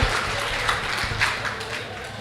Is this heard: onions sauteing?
no